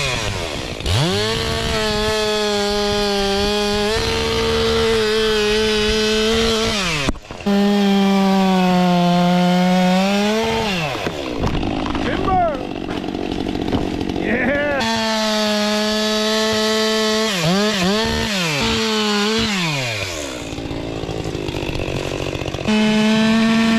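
A chainsaw cuts wood on a mountain track to free a stuck Ford Raptor. The engine drones steadily and surges as it bites into the wood, with short idle dips and revs in between, loud and close throughout.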